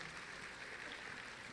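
Applause from a crowd at a senior awards ceremony for an honored scholar, dense and even but fairly quiet throughout.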